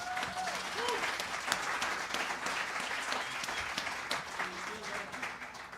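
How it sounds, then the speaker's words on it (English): An audience applauds steadily throughout, a dense wash of clapping with a few faint voices mixed in. "Give them a round of applause."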